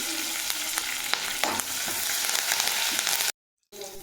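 Chana dal, green chillies and curry leaves frying in hot oil for beetroot palya, a loud continuous crackling sizzle with spatula scrapes, close up, dropping out briefly near the end.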